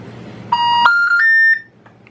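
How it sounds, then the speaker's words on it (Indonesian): A OnePlus 6 phone's emergency call connecting tone: a short electronic sequence of a few rising steady beeps in quick succession, clear and close, ending abruptly. "Ini suara panggilan darurat terhubung"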